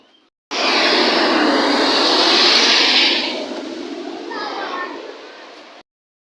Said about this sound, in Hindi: तो आपने देखा ये जहाज़ कितनी नीचे से जा रहा था